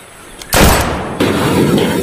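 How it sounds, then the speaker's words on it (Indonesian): Gunfire in the video game Jurassic World Evolution 2 while hunting dinosaurs: a sharp, loud blast followed by a second burst a moment later, each trailing off in a broad rumbling roar, with no speech. "Kita langsung tembak aja teman-teman."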